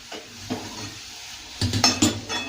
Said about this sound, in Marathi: ही सर्व मोहरीची भाजी मोकळी करून अशी हलवून घ्या.